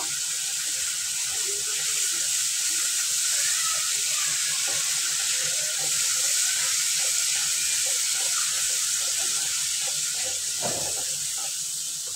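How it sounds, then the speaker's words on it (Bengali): Water going into spiced masala for chicken kosha with chui jhal: a steady hiss and sizzle rising from the hot pan, close and constant throughout, with faint bubbling underneath. "আমি এবার অল্প একটু জল দিয়ে দিচ্ছি কষানোর জন্য মশলাটা।"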